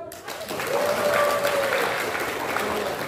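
A crowd at a family-themed talk show claps for a couple in a games contest, building into loud, continuous applause with whoops and cheering voices mixed in.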